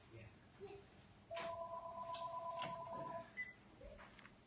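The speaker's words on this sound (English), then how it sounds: "my phone is ringing" A phone rings with a warbling electronic ringtone that holds for about two seconds, fairly faint, amid soft background noise and brief knocks.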